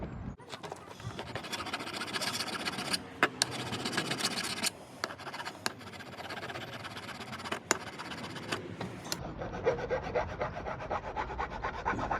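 Metal part of a Suzuki Bandit 1200 motorcycle being worked with a hand file during restoration: steady, close rasping strokes repeat in an uneven rhythm, with a few sharper knocks, and no talking.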